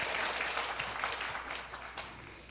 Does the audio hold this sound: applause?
yes